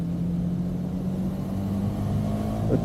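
A Royal Enfield Bullet motorcycle engine runs with a steady low throb and mild revving, close and continuous for the whole stretch with no voices.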